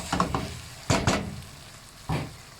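A spoon stirring pitted olives into a cooking mixture for a chicken roulade with cream, heard as a few close scraping, sizzly strokes in short irregular clusters, with quieter gaps between.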